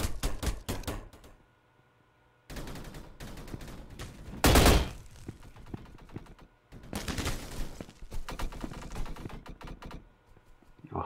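Gunfire in the Roblox shooter Energy Assault, including a PKM machine gun: rapid bursts of shots in several clusters with brief pauses and one loud blast near the middle, no talking.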